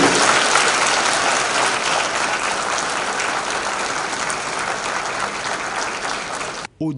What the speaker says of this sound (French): Son atterrissage suscite un tonnerre d'applaudissements.